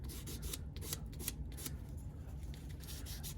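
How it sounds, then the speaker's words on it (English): Light 220-grit sandpaper is rubbed over carved wood, giving soft, close, rhythmic scratchy strokes that fade to quieter rubbing toward the end. "Now I'm just kind of using this sandpaper to clean that up a little bit. Real light sandpaper."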